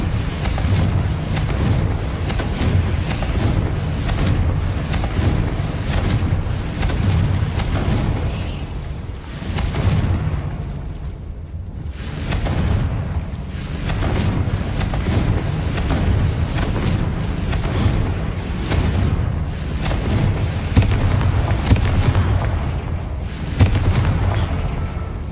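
Confringo blasting-spell explosions in Hogwarts Legacy: a continuous, loud rumble of booming blasts and deep crackling bursts, dense and layered with brief dips, with no speech over it.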